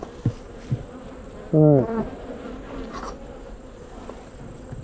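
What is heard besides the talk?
honey bees buzzing around Apimaye hives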